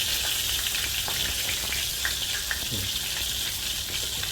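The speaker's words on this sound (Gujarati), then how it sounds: "હવે ધાણા નાખીશું. થોડા ધાણા નાખીશું." Coriander dropped into a hot pan of oil for Rajasthani kadhi sets off a steady, close frying sizzle that holds without pause, with fine crackling throughout.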